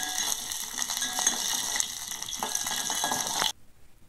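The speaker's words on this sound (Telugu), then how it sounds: "దాంట్లో జీడిపప్పుల కోసం జీడిపప్పులను అయితే నెయ్యిలో ఫ్రై చేస్తుంది" Cashews frying in ghee as a pan is stirred, a steady close sizzle with soft scraping and clinks that cuts off abruptly near the end.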